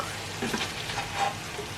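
Hake pieces frying in a pan, a steady broadband sizzle with slightly louder crackling bursts, close and continuous with no voices.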